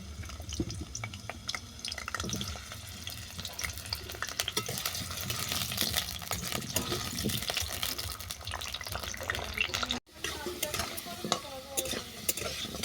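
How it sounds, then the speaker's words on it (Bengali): Potato pieces frying in hot oil in a pan, a steady close sizzle with stirring and scraping noises throughout, briefly cutting out near the end before resuming, with no talking. "এর মধ্যে আমি আলুটাকে ভেজে নেব।"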